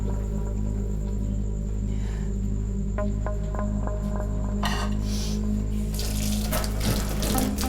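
Water from a tap pours steadily into a kitchen sink while dishes are washed, a constant close rush with a few light clinks of utensils and a brief splashing swell near the end.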